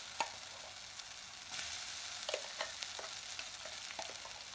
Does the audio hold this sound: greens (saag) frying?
yes